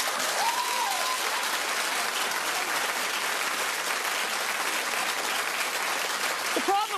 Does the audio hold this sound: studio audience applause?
yes